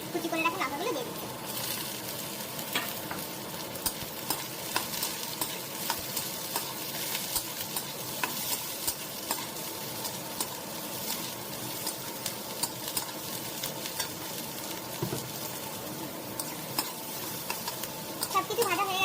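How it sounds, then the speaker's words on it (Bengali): Potatoes, onions and chopped green chillies frying together in a wok for chow mein: a constant soft sizzle with scattered stirring clicks and scrapes throughout, fairly quiet. "এখন আলু পেঁয়াজ দুটো একসাথে মিক্স করে ভেজে নেবো।"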